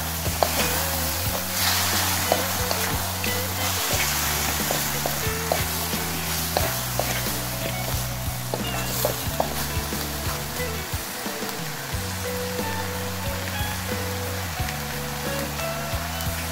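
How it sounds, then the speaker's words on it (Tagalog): Chicken tinola sizzles steadily in a pan while a utensil stirs it, with repeated scraping clinks over a constant frying hiss and a low background hum. "Haluin lang natin."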